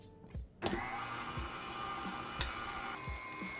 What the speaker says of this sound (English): We are now going to whisk this